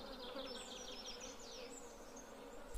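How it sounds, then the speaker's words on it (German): Bees from the video game Stardew Valley buzz in a continuous, moderately close drone with wavering pitch, heard alone without talk. "Die Bienen müssen draußen bleiben."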